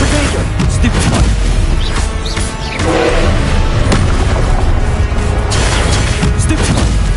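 Confringo explosion spells in the Hogwarts Legacy video game, a barrage of loud booming blasts and crashes in a dense, continuous combat din, briefly easing before the detonations resume.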